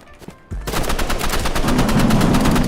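Rapid machine-gun fire from a Roblox shooter game, a dense automatic burst that starts abruptly after a brief quiet moment and rattles on loudly and steadily to the end.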